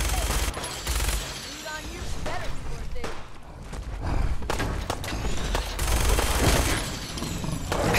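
Enemy gunfire rattles through a Fallout 4 firefight in dense, overlapping bursts that swell and fade for several seconds, with a voice speaking over the shooting.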